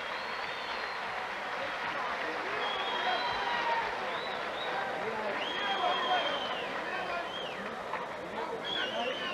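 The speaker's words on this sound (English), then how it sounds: "standing ovation from the partisan crowd here at Indianapolis" Partisan crowd at a boxing venue in Indianapolis giving a standing ovation after an amateur bout, a steady roar of cheering and applause with whistles and shouting voices, sustained and fairly loud throughout.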